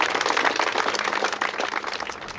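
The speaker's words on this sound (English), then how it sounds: "So let's give them the biggest round of applause" A crowd at the Sport Parkinsons Four Nations Golf event claps steadily in thanks to the organisers, a dense, sustained patter of many hands that fades slightly toward the end.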